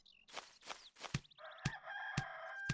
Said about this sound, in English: We'll stop hearing this rooster going off.